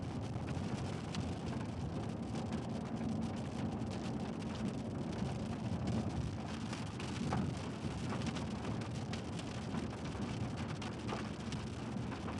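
Steady rain during a thunderstorm in South Central Texas, a dense broadband hiss that stays even throughout with a low rumble beneath, with no voices.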